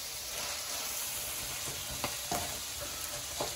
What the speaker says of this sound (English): Let's just give it a good stir